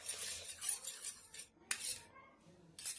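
A fork or spoon whisking egg with salt in a bowl for an omelette, quiet scraping and clinking strokes in a steady rhythm with a couple of brief gaps.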